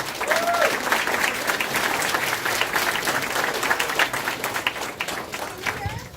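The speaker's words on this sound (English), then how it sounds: "Let's give a big round of applause for you guys." An audience at a real estate investing event claps steadily in a full, sustained round of applause, with faint voices and a brief whistle-like tone mixed in.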